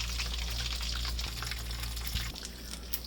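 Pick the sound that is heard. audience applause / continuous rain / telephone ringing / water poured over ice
water poured over ice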